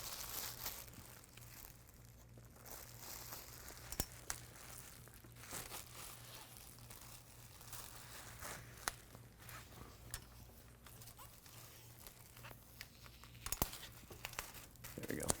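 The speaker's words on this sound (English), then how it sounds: "Let's tape this in place." Adhesive tape is pulled and pressed into place on a prosthetic socket mold, making quiet, close crinkles and short tearing rips at irregular intervals, with faint voices now and then.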